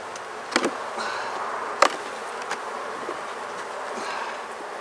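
Honey bees buzzing around an open beehive during an inspection, a soft continuous hum with a few brief louder passes close by.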